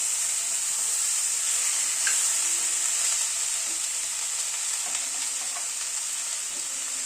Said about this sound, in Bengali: নুনটাকে দিয়ে একটু নাড়িয়ে দিলাম।